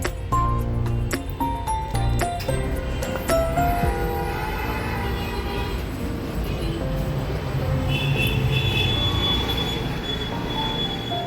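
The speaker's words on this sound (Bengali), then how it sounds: "এখন আমরা স্টেশনে চলে এসেছি তো এক্ষুনি আমাদের ট্রেন আছে" At a station, a train rumbles loudly and steadily, with metallic wheel squeals and screeches ringing out over the heavy rolling noise.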